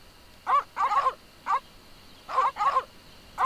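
Poodles barking in the video game The Secret of Monkey Island: several short, sharp barks in quick bursts, a pair, then a single, then another cluster, fairly close and clear with no talk over them.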